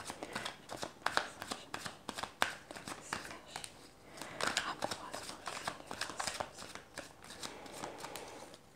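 Tarot cards shuffled by hand in a dense run of crisp riffling slaps and flutters, close and fairly quiet, with brief pauses as cards are drawn.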